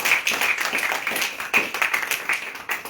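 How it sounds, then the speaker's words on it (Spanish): A church congregation claps together in praise, dense steady applause with sharp individual claps standing out near and far, no voices over it. "Denle un aplauso al Señor."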